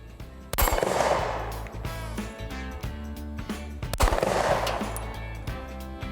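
A Smith & Wesson M&P Shield Plus pistol in 30 Super Carry fires a rapid string of sharp, loud shots outdoors. Two heavier blasts stand out among the quicker cracks, each followed by a short echo.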